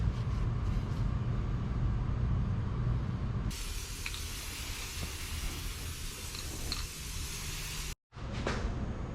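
Aerosol brake cleaner sprays in a steady, loud hiss from a can close by, starting partway through, breaking off briefly near the end and then resuming, with a low mechanical rumble underneath.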